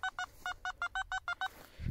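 A metal detector gives a run of about nine short, evenly spaced electronic beeps while digging for coins and rings, followed by a low scraping thud.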